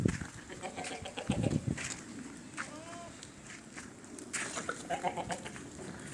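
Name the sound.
Beetal goats bleating on a goat farm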